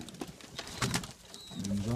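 Pet pigeons coo softly nearby, producing low, throaty murmurs mixed with faint rustling in a quiet indoor space.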